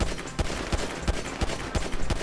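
Gunshots ring out in the video game GTA V as a regular series of sharp, evenly spaced cracks, about seven in quick succession. They sound close and loud over a steady background of game noise, with no talking.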